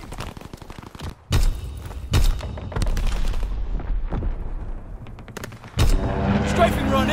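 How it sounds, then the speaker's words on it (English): Strafing-run gunfire from a fighter plane in Call of Duty WW2, heard as loud, abrupt bursts of shots and heavy booms that cut in and out over a dense, rumbling battle soundscape. "Fighter pilot ready for strafing run."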